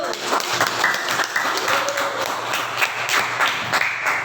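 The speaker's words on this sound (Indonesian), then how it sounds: "kita beri tepuk tangan terlebih dahulu" Classroom audience applauding before a group's poetry recitation, a steady patter of many hands with faint voices mixed in, lasting the whole stretch.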